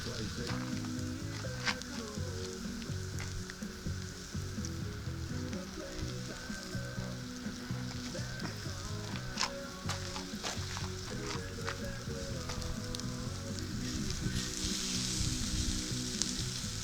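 Previously cooked catfish warms in a pan with peppers over a campfire, giving a steady, close sizzle and frying crackle with occasional stirring scrapes and a strong low hum throughout.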